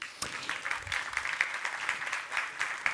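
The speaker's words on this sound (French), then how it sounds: "Oui, vous pouvez l'applaudir." An audience at a corporate data conference breaks into applause, a fairly soft, steady patter of many hands clapping from a moderate distance that fills the whole moment.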